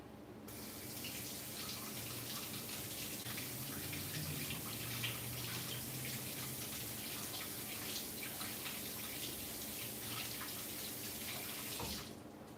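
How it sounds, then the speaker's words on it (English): A kitchen tap runs in a steady, fairly quiet stream while a ripe peach is washed under it, the flow starting and stopping abruptly with no other sound on top. "I'm also gonna wash this peach because it looks ripe"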